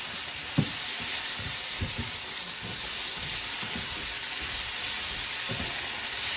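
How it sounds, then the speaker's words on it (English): Thai red curry chicken sizzles steadily in a hot pan over medium heat, a continuous frying hiss broken by a few soft scrapes and knocks as the spoon stirs it around. "At this point, I'm going to stir it all together."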